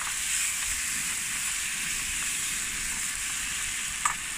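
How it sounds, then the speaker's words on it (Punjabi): A tadka tempering for dal sizzles in a pan as an even, close, hissing fry that holds steady from start to finish, with one small clink near the end. "ਲੈ ਜੀ ਇਹ ਹੋ ਚੁੱਕਾ ਤੜਕਾ"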